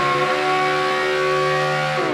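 The Obey 9R, GTA 5's take on the Audi R8 V10, revving hard with a loud sustained harmonic engine wail that climbs in pitch near the end, close and alone.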